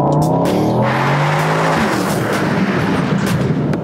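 A Mercedes-AMG GT under way gives a loud, close engine roar whose pitch climbs steadily, with rough broadband road and tyre noise filling the sound throughout.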